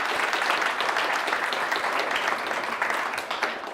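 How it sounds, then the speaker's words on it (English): A crowd at a community health and wellbeing night launch gives a local representative a big round of applause, steady loud clapping from many people in a hall that swells briefly and then slowly fades. "Give her a big round of applause."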